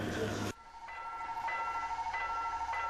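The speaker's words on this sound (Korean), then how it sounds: "이제 가을빛 추억 여행을 떠날 기차에 오릅니다." A passenger train in Jeolla Province, South Korea, boarded for an autumn trip: a loud burst of noise cuts off, then a steady rhythmic clatter of wheels on the rails rolls on, close and alone.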